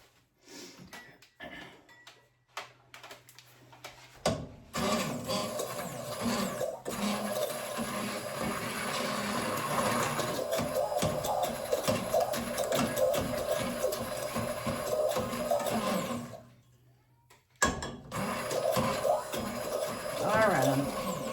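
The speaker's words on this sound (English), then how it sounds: "All I'm doing is blending this soup up with my, I call it, it's called an immersion blender." An immersion stick blender runs in a pot of soup for about twelve seconds as a steady, whirring motor with sloshing. Brief clattering comes before it, and it stops, then starts again near the end.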